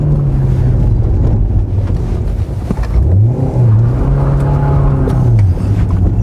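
A lowered, non-turbocharged BMW E46 Touring engine revs hard while the car drifts. The pitch rises and falls in long sweeps over heavy wind buffeting, loud and close.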